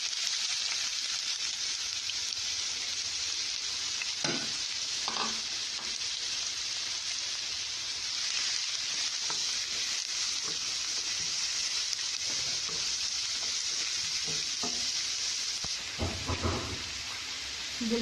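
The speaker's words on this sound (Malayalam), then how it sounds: "ഈ ചൂടായി വരുമ്പോഴേക്ക് ഞാനിവിടെ 2 സവാള, കുറച്ച് അത്യാവശ്യം നല്ല വലിപ്പമുള്ള സവാളയാണ് കട്ട് ചെയ്തെടുത്ത് അതിലേക്ക് ചേർത്ത് കൊടുക്കാം." Two large chopped onions frying in a hot pan, a steady loud sizzle throughout with a few faint clinks and stirring sounds.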